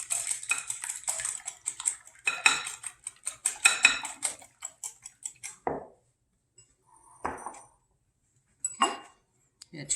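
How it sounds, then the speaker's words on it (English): A whisk beats eggs in a bowl for a quiche, giving quick, rhythmic metallic clinks and scrapes close by. The strokes come in bursts with short pauses between them. "So you whisk your eggs."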